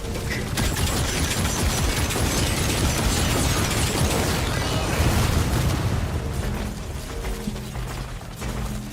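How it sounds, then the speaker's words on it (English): A barrage launches in the video game Steel Hunters, with dense, continuous mechanical clatter and rumbling explosions filling the mix at steady loudness before easing slightly toward the end. "Launching barrage."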